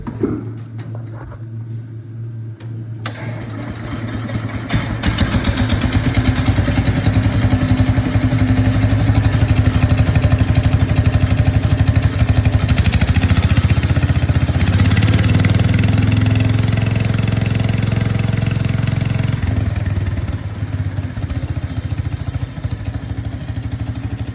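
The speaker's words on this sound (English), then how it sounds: "Good running tractor. Here, I'll fire her up for you guys." A Case 150 tractor engine, which burns some oil, cranks and catches, then rises to a loud, steady rumbling idle that holds for a long stretch, easing slightly near the end.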